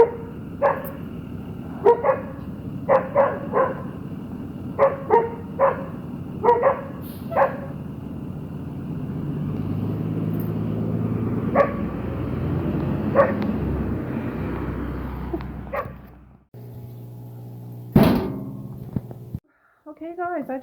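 A dog barks in short sharp bursts, a dozen or so spaced yaps over a steady background hum, with a person talking between and around them before things go quiet near the end.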